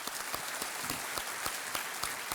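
Studio audience applause on the Kaun Banega Crorepati game show, a dense, steady wash of clapping with sharp individual claps popping through, filling the whole short stretch without any voices.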